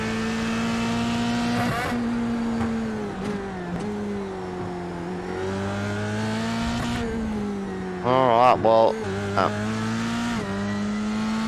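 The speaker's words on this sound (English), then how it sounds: "Let's have a listen to those engine revs, see if we can hear him clutching or... Clutch there, he just rolled out of it a little bit." A race car engine in iRacing at Phillip Island drones steadily at high revs, with pitch dipping at lifts and gear changes and a brief burst of tire squeal near the end, under a few spoken words.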